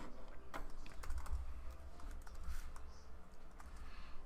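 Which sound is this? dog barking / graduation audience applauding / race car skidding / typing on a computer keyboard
typing on a computer keyboard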